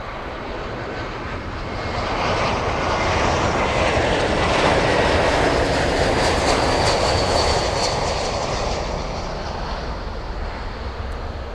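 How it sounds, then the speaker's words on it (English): A Lufthansa Boeing 747 departs Miami International Airport: a broad jet-engine roar builds from a distant rumble to a loud peak midway, then slowly fades as the aircraft moves away. "If you enjoyed that 747 departure, don't forget to hit that like button."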